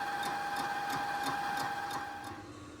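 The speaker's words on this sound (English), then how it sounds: "you can see the machine's running, and we're starting to take a cut" A machine resurfacing the top face of a corroded motorcycle cylinder head runs steadily nearby, a constant mechanical whine with two sustained tones and a faint regular ticking tapping through it, easing slightly toward the end.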